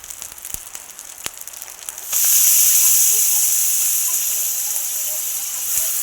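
Taro stalks go into a hot pan with shrimp, setting off a sudden loud sizzle that then hisses steadily and slowly eases.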